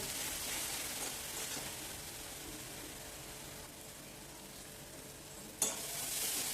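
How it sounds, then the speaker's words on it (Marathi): Chili garlic thecha is sautéed with onions in a pan, giving a soft, steady sizzle with light stirring throughout and one sharp utensil knock near the end. "आपण हा मिरचीचा ठेचा कांद्यामध्ये परतून घेऊया"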